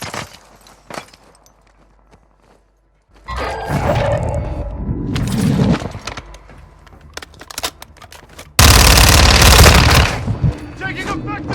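Bursts of gunfire ring out loud and close, with rapid shots in clusters and a heavy volley near the end, mixed with shouting voices.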